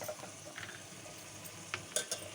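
Cashews, coconut pieces and raisins fry in oil in a pan for semiya payasam. A steady soft sizzle is broken by a few faint clinks of a spoon stirring against the pan, and no one speaks.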